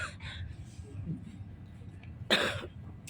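A man coughs and clears his throat, a few rough bursts early on followed by one sharper, louder cough near the end, set among quiet breathing in an indoor space.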